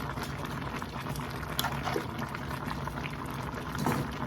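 A seafood boil with crab meat cooking in a pot of boiling water, a steady close bubbling and churning with faint splashes throughout.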